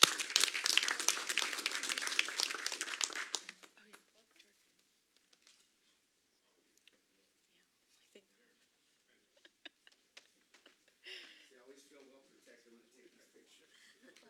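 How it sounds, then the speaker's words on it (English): A short burst of applause from the audience at a city council meeting, dense clapping for about three and a half seconds before cutting off to near silence with faint scattered room noises. "Another round of applause, please."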